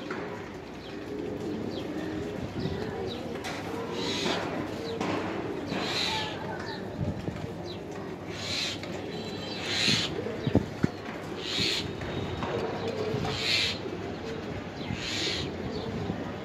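Giribaz high-flyer pigeons of the Palla line, a blue-marked pair, coo in repeated soft bursts roughly every second or two, steady and fairly close, with a faint bird call above them and no talking.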